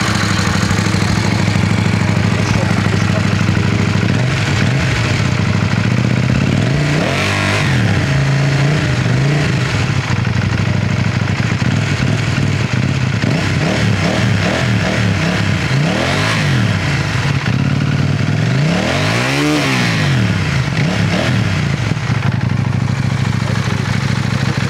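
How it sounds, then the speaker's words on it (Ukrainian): A KTM Duke 790 motorcycle engine idles with a steady low rumble, then is revved repeatedly in several rising and falling bursts, loud and close, with no talking. "І тут я беру цей мотоцикл, а він так звучить гарно."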